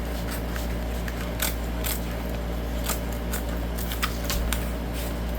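Scissors cut through leather paper in a series of irregular dry snips, some sharper than others, over a constant low background hum with no talk.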